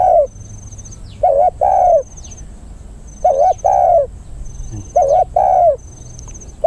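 Repeated soft, low coos in short paired phrases, three clear bouts spaced a second or two apart, with faint bird twitters in the background.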